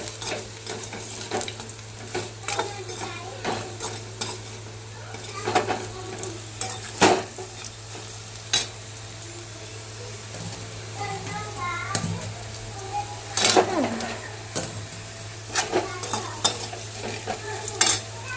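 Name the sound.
stirring vegetable curry with salt in the pan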